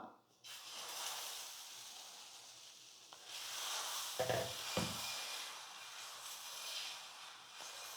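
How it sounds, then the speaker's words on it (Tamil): Instant dosa batter of wheat rava and poha hits a hot griddle with a steady broad sizzle and hiss, swelling louder midway with a few brief scraping bumps, while a person talks over it. "இப்போ தோசைக்கெல்லாம் சூடு ஏறிடுச்சு இப்போ தோசை ஊற்றிக்கலாம்"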